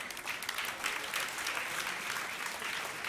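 An audience applauding at a church gathering, steady dense clapping from a crowd heard from some distance, fairly soft and sustained for several seconds.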